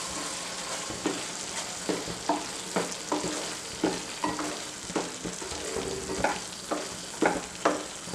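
Cashew paste gravy for lady finger masala simmers in a pan, a soft steady sizzle broken by regular scraping strokes of a spoon, roughly one per second, heard close and alone.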